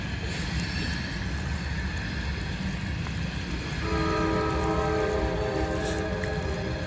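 Constant heavy rumble of a Norfolk Southern coal train crossing a trestle in Prince, West Virginia, joined midway by a sustained, multi-tone horn blaring loudly over the clatter of rolling cars.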